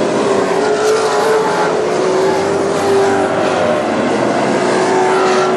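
WISSOTA Super Stock race cars roar around the North Central Speedway dirt track in 2014. The loud engine drone is continuous and rises and falls gradually as the cars race together.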